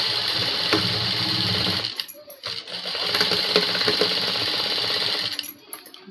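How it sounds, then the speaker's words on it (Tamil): A sewing machine stitches the fall along a saree edge, running in a fast, close mechanical whir that pauses briefly partway through and then resumes before stopping, with no speech over it. "இப்போ ஓரமாக நம்ம தையல் அடிச்சுன்னு கடைசி எண்ட் வெளியும் முடிக்கலாம்."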